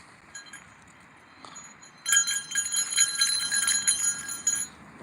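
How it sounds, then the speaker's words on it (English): Small bells fastened to dogs out hiking in the Alaska mountains jingle in a busy, shimmering cluster of rapid metallic clinks. It starts suddenly partway through, is fairly close, and carries on steadily over quiet outdoor background. "So we put these little bells on them."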